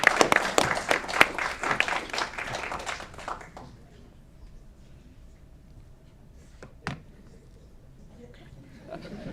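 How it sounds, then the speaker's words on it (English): A crowd at a city committee meeting in Aurora applauds with dense clapping for about four seconds, then it fades to quiet room tone with a single sharp knock and faint sounds near the end. "Clap it up for Doug."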